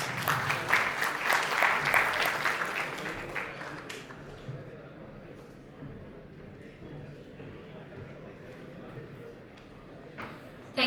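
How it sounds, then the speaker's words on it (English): Audience applause in a conference hall at a community tech day: the clapping is loud over the first few seconds, then thins out and fades, leaving a low murmur of room noise. "Please give a huge round of applause."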